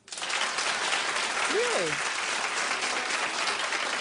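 A television talk-show studio audience breaks into loud, sustained applause that fills the whole stretch evenly, with a brief spoken interjection partway through.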